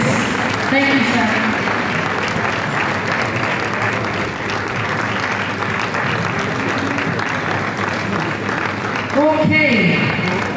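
Sustained audience applause for a speaker at a leadership conference, steady and dense for the full stretch, with a few voices calling out near the end.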